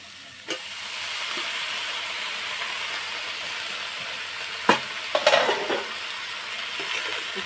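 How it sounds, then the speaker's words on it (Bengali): Pumpkin leaves fry in a pan with a constant sizzling hiss, interrupted by a few sharp clatters and stirring bursts midway. "ভেজে নেব একটু নিয়ে"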